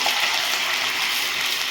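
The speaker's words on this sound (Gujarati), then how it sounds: "તેમાં ગરમ પાણી નાખીશું" Hot water is poured into two spoons of oil in a pan while making farali moraiya vada, giving a close, steady gushing sizzle throughout.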